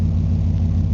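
A well-worn, high-mileage 1994 Ford F150 V8 idles steadily after new spark plugs, giving a loud, even low rumble with no talking over it.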